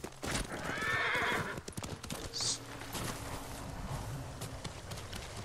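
Rapid hoofbeats of a galloping horse in Ghost of Tsushima, with a brief neigh and a sharp high swish layered over a busy game soundscape. No voices.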